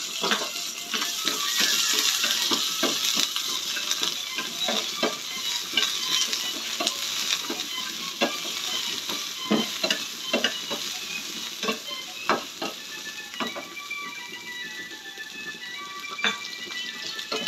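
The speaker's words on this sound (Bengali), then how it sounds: "আর একটু পেঁয়াজ কুচো ভেজে নিলাম।" Chopped onion fries in a pan with a continuous sizzling hiss, while frequent light scraping and clicking from stirring punctuate it for a long stretch; no one talks.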